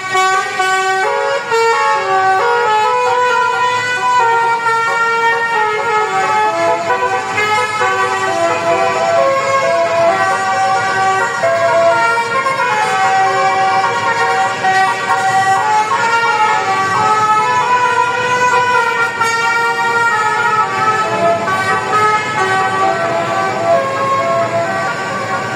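A musical multi-tone basuri horn on an intercity Borobudur Indah bus at a bus terminal at night plays a continuous melodic tune, loud and near, for the whole stretch without any talking.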